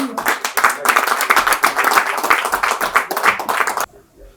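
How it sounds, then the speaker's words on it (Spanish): Audience clapping at a gathering in Jarabacoa, a dense burst of applause lasting nearly four seconds, then cutting off abruptly into quiet room tone. "Un aplauso a Aris Rivas."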